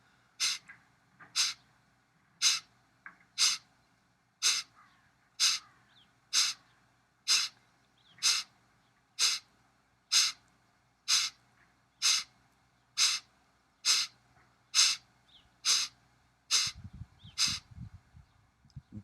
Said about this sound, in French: Le souffle donc passe par le nez et uniquement par le nez. Expire dynamique, inspire sans aucun effort.